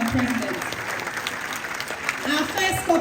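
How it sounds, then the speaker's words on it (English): A crowd at a reparations book launch in Ghana applauds the president, a dense wash of clapping that holds steady, with voices talking over it at times. "Please, once again, a round of applause for the president"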